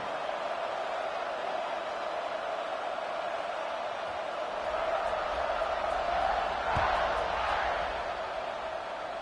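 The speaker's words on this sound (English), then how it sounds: "and this crowd now ready to get behind them." Large crowd at a college football stadium before kickoff, a steady broad roar that swells in the second half with a brief low thump, sustained and distant-sounding throughout.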